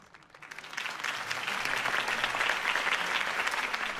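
Crowd applause breaks out for Harvey Dent's campaign speech in the Batman Telltale video game, rising from a quiet start into steady, dense clapping that holds at full strength to the end.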